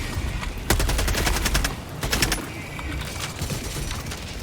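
Rapid bursts of weapon gunfire ring out in Helldivers 2, loud sharp volleys in quick succession with a noisy battle din between them, and the shots thin out toward the end.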